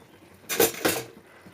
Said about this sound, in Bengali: ঢাকনাটা খুলে দেবো।